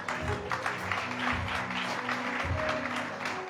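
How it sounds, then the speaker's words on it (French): A church congregation applauds the music group in a steady wash of clapping hands at moderate volume, with a few voices and low sounds from the room mixed in. "Est-ce qu'on peut acclamer le groupe musical?"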